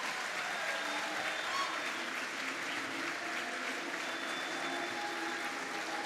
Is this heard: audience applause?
yes